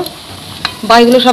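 Papri chaat dough pieces fry in hot oil, a short burst of bubbling sizzle with stirring that swells sharply toward the end.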